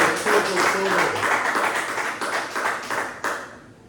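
A church congregation gives a loud round of applause, dense clapping at a fairly steady level that tapers off at the end, with some mixed voices underneath.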